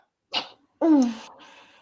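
A single sharp sneeze bursts out close by, with a short intake of breath just before it, in a quiet indoor room.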